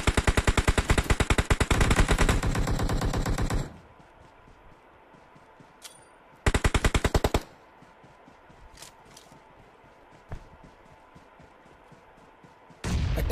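Automatic gunfire in the BGMI (PUBG) video game: two long, loud rapid-fire bursts with a short third burst between them and a fourth starting at the end, separated by quiet stretches with faint clicks.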